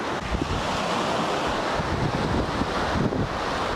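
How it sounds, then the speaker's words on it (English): Ocean surf crashing on a beach shore around sunrise, a loud, steady roar of breaking waves with wind buffeting the microphone throughout, no voices. "the glorious sound of the water crashing on the shore"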